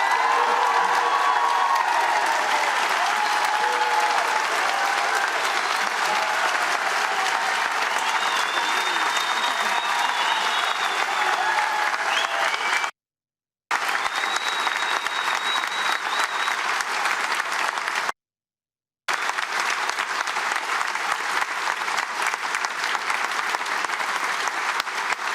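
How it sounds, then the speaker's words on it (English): A large gathering at an outdoor vigil for the victims of the Nottingham attacks gives long, loud applause with cheers and whoops, unbroken for about twenty-five seconds apart from two brief gaps. "to show us an enormous round of applause for everyone affected by this tragedy"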